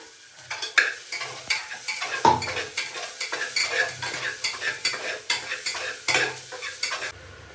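Tomatoes tossed into a hot frying pan, with steady sizzling and repeated close scraping strokes of a spoon stirring against the pan, loud and rhythmic throughout with no talking.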